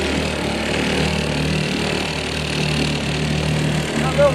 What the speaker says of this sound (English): This little motor here is a honey.